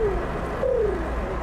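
A man imitates the soft cooing call of a pigeon with two low, smooth coos, close and fairly clear over a steady outdoor background hum.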